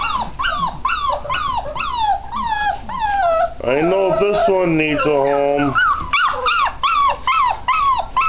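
Several puppies whimper and yelp in high, repeated cries, with a person speaking briefly over them partway through.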